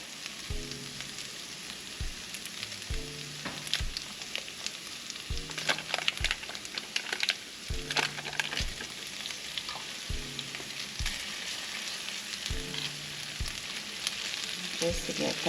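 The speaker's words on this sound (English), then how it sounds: "So before I add my garlic, I am going to add a half a stick of butter." Half a stick of butter melts with vegetables in a skillet, giving a quiet, continuous frying sizzle with light crackles and a few soft clinks and scrapes from stirring.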